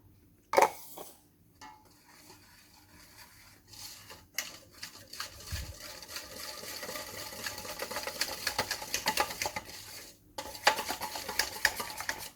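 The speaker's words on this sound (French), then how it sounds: "Ensuite, j'incorpore ma poudre d'amande." Almond powder being stirred into almond cream in a bowl: a spoon or whisk scraping and clinking against the bowl, starting with a few sharp knocks and building into steady rhythmic mixing, with no voices.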